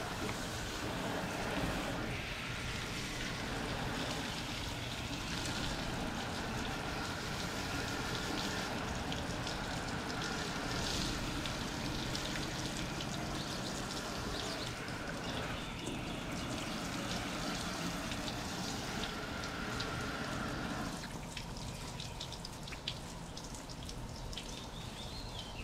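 Water sprays and trickles steadily over a smoker being washed down, a continuous close hiss and splatter that shifts slightly in tone near the end, with no talking.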